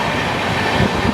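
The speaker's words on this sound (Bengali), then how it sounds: "কামরূপ এক্সপ্রেসকে আমরা ওভারটেক করছি বন্ধুরা" Passenger train rumbling steadily past the Kamrup Express while overtaking it near Kumarganj, a continuous loud rail roar with faint wheel clatter, heard from on board.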